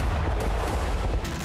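A second bomb dropped by a Ukrainian drone explodes on a tank, heard as a loud, sustained booming roar with sharp cracks near the start and end.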